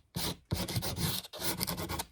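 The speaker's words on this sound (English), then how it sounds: "the round file and get after it, right?" A round file rasping across wood while shaping a cigar box guitar, three loud sustained scraping strokes close by, separated by brief pauses.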